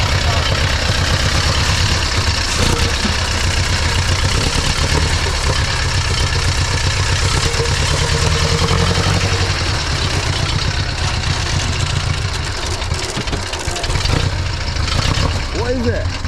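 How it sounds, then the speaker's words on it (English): A prewar GN vintage car fitted with a 5 1/4 litre de Havilland aircraft engine idles at a hill climb, a loud, steady, rumbling throb close by, with people talking over it. "A GN, it is. With a de Havilland aircraft engine"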